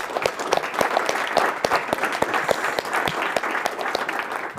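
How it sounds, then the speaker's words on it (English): Applause for panelists after a business talk on starting your own firm: a modest crowd claps close by, with distinct individual claps standing out in a busy, steady burst. "Maybe we could give a round of applause to our panelists."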